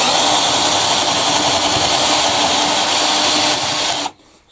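A spade flat drill bit bores through wood with scrap wood underneath, a loud continuous whining drill motor with rough grinding of the cutting, running steadily for about four seconds before stopping abruptly.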